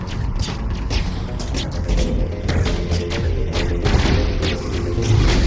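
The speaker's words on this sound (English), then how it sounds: "Lay down cover fire, you sons of bitches." Dense gunfire and booming impacts of a firefight in the video game Mass Effect Legendary, a continuous loud barrage of shots and thuds with no clear gaps.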